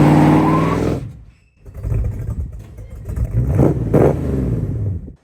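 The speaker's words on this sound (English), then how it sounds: "I interpret that to mean a big smoky burnout." A 1968 Plymouth Barracuda V8 on new oversized tires revs hard during a smoky burnout near a shop: a loud roar dips briefly, then climbs again through rising, rough revs.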